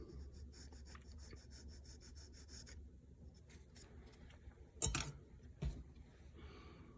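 A small file rubs back and forth on wood on a 2x4 shack build, a faint rapid rasping rhythm, then a few louder knocks and scrapes close by in a quiet room.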